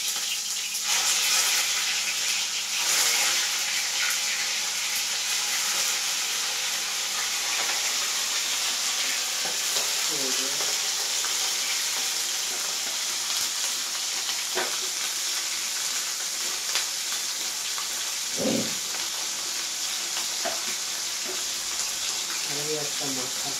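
Pieces of hilsa fish fry in hot oil, a steady bright sizzle running throughout with occasional faint clinks and stirring touches.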